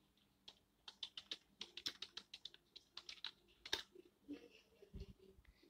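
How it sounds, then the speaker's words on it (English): Quiet, close typing on a computer keyboard, a steady run of soft key clicks with brief pauses, then a couple of duller knocks near the end. "So let's type."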